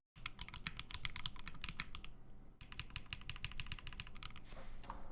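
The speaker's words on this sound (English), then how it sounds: "Let's do a typing test real quick" Fast typing on a KBDFANS Agar mechanical keyboard, a close run of crisp, rapid keystroke clacks with a brief pause in the middle before the rhythm resumes, quiet and alone.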